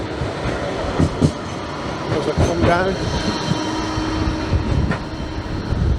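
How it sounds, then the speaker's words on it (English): A street tram rumbles past close by with rolling wheel noise, clatter and a brief squeal, heard outdoors while someone talks over it. "Got a tram creeping up on me now"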